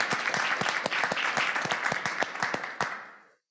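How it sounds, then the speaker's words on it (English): An audience applauds after a talk on pine martens, a dense burst of clapping that holds steady for about three seconds, then stops abruptly. "quick round of applause"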